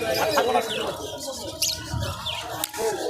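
Pigeons cooing and calling at the busy Birnagar pigeon market in Nadia district, with occasional chirps and wing sounds mixed into steady crowd chatter and people talking nearby.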